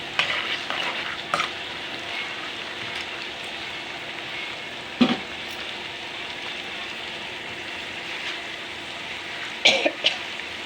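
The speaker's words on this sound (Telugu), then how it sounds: "పల్లీలు వేసేటప్పుడు ఇదిగో పల్లీలు కూడా వేసుకోవాలి పల్లీలు ఎక్కువనే వేసుకోవాలి" Peanuts frying in oil in a pan for pulihora while being stirred, a soft continuous sizzle with scraping strokes and a few sharp clinks of the spoon against the pan, close and fairly quiet.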